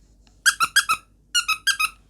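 A squeaky toy donut gives two quick bursts of high-pitched squeaks, four sharp squeaks in each group separated by a short pause, close, clear and alone.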